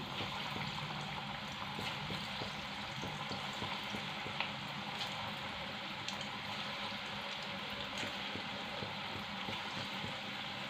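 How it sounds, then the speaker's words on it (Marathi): Crispy moong dal bhaji fritters fry in a pan of oil over high flame, giving a continuous soft, even sizzle and bubbling hiss with scattered faint crackles, no voices. "आता परत सुद्धा तेल गॅस आपल्याला मोठाच ठेवायचा आहे आणि सेम पद्धतीने आपल्याला हे भजे करून घ्यायचे आहेत"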